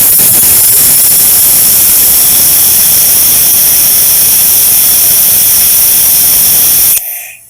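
A vacuum brake bleeder on a 1991 Mercedes 300d hisses loudly and steadily like a rushing air jet while pulling brake fluid, then cuts off abruptly near the end.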